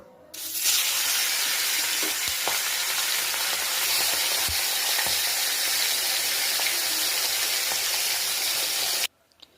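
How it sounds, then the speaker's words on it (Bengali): Fish frying in hot oil makes a loud, continuous hissing sizzle close to the pan, broken by a few faint knocks and clicks, before cutting off at the end. "তেল গরম হয়ে গেছে, মাছটা ভেজে নেব"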